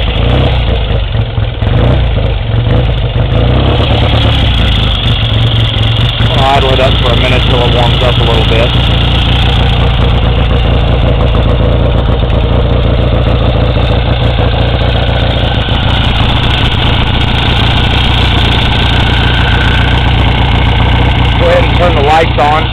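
A 1965 Triumph TR6SR 650 Trophy motorcycle idles steadily on a cold morning, a loud, close, continuous engine note with a rhythmic low-end throb running unbroken throughout.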